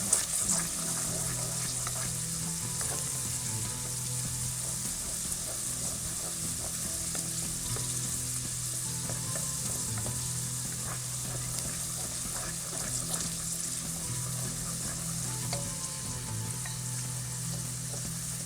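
Green peas fry in oil in a pan for mutter pulao, a steady close sizzle that runs unbroken throughout with faint stirring scrapes and no talking.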